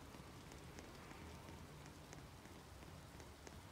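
Steady, faint hiss of video game rain pouring down and falling through a roof, continuous and even, with no talking.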